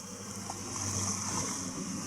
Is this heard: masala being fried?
no